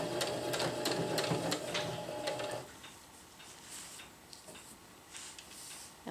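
A sewing machine stitches a drawstring channel on a DIY stuff sack, its rapid needle clatter loud and steady for under three seconds before dropping to quieter handling and faint ticks.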